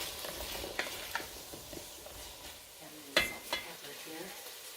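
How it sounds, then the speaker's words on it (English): Garlic fries quietly in a pan for a cabbage soup while a utensil stirs it, giving a faint sizzle broken by a few light scrapes and taps. "Add a quick stir."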